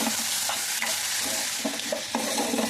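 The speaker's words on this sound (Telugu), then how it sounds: "గోరుచిక్కుడుకాయ ముక్కల్ని కూడా ఇందులోకి యాడ్ చేసేసి కొద్దిగా పచ్చి వాసన పోయే వరకు ఈ ఆయిల్లోనే ఫ్రై చేసుకోవాలి" Cluster bean pieces fry and sizzle in hot oil for a curry, a steady broadband hiss with occasional scrapes of stirring, close and continuous with no voices.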